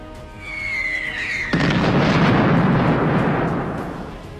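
A sharp, loud boom hits abruptly, followed by a long rumbling roar that slowly fades, as an artillery round explodes on a communications tower with antennas; a faint high whine comes before the blast.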